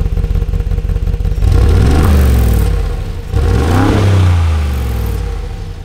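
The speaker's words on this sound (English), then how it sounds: "let me just rev it here because we're in comfort mode" The engine of a Brabus Mercedes G-Wagon is revved in comfort mode, giving two loud, deep blips that swell and fade over a steady idling rumble, close up and with no talk.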